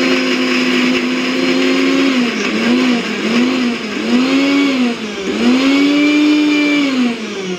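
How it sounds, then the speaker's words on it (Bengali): A blender grinds spice paste for a pressure-cooker mutton curry, running loud and close with a whining motor whose pitch dips and rises repeatedly as the load shifts. "এখন এই মশলাটা বেটে নিই"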